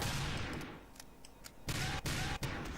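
Gunfire from the Team Fortress 2 video game, a few sharp shots over a dense game soundscape, with several distinct loud bursts near the end.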